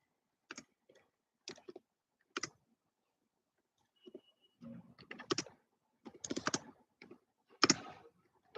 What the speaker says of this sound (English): Let me just type in the chat.